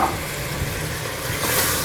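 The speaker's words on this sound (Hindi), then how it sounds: "अब हम इसको हल्की आंच पे अच्छी तरह इसको फ्राई करेंगे" Chicken fries in ghee in a karahi over a low flame, giving a steady, fairly loud broadband sizzle with a slight swell near the end and no talk.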